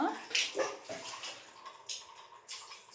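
Water splashes and sloshes in irregular bursts across a hard floor being washed indoors, close by and moderately loud.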